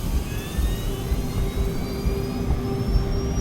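The twin jet engines of a DC-9 airliner throttle up for takeoff, a steady loud roar with a rising whine held throughout, no talking.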